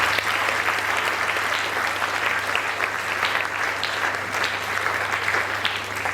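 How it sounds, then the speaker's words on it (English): A large audience applauds steadily, a dense even roar of clapping that holds at full strength throughout. "Can we give them a huge round of applause?"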